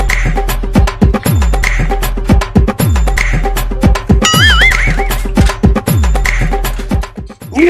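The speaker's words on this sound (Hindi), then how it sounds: "चलो अपने घोड़े तैयार करो" Loud horse whinnies rise over a pounding, rhythmic galloping beat with music in a Hindi comedy film scene, the neighs rising and falling above the steady hoofbeat-like rhythm.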